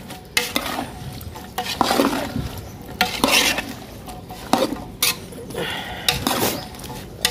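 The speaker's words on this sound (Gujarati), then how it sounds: "પેલા આ બધું તેલમાં થોડુંક ફ્રાય થઈ જાય ધીમા તાપે" Cauliflower, carrot, potato, pointed gourd and other vegetables fry in oil with turmeric, salt and ginger-chilli paste over a low flame. A soft sizzle sits under repeated close scrapes and clinks of a spoon on the pan.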